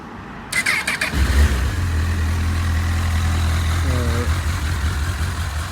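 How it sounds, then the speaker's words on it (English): A 2008 Honda CBF1000 motorcycle engine cranks briefly, catches and settles into a steady, low idle, with a short rev partway through. "We put the ignition on."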